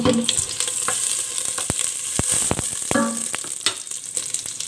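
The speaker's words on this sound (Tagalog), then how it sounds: "Gigisahin na natin yung ating sibuyas. Maglalagay tayo ng olive oil." Onions sauté in olive oil and butter, a bright continuous sizzle up close with repeated spatula knocks and scrapes against the pan while being stirred.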